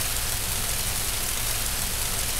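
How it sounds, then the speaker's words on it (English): Steady rain falls at night in The Movies video game, a constant even hiss with no breaks or distinct drops, moderately loud and with no voices over it. "I'm gonna make this happen at night and it's gonna be raining"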